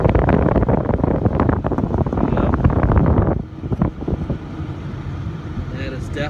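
Cold air blows from the air conditioning of a 1999 Ford F250 diesel as a steady, loud rushing of airflow, which drops abruptly after about three seconds to a quieter cabin hum.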